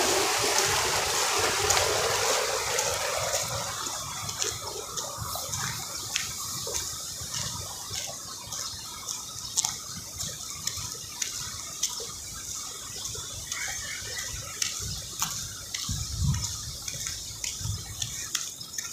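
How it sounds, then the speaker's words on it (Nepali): Water runs across a mountain road near an army post on the way to Lachen, a continuous gurgling stream with scattered drips and splashes. It rushes louder at first, then settles to a steady trickle. "बाटोमा पनि यसरी पानी पुगिरहेछ"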